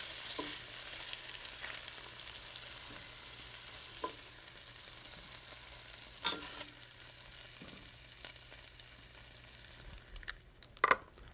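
Stuffed beef braciola sizzles in a pan as the pieces are turned, making a steady, fairly quiet frying hiss with occasional soft taps and clinks and a louder clatter near the end.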